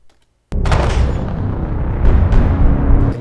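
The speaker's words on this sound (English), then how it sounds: "Here is our deck gun clip right here." A heavy deck gun fires as a video game sound effect: a sudden loud boom bursts in after a brief silence, followed by a dense, rumbling sustained roar with a couple of further punchy swells, no voices.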